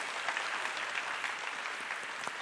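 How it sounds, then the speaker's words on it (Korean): Quiet, steady applause from an audience at a masterclass event, an even wash of clapping heard at a distance with no talk over it. "지금 여러분 이때 박수 치셔야 됩니다."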